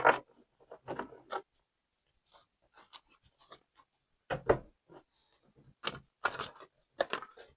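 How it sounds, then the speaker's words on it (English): Tarot cards shuffled by hand, heard as a scatter of short papery riffles, slaps and soft taps in uneven bursts. The sounds are close and fairly quiet, with gaps of near silence between them. "These cards are so hard to shuffle."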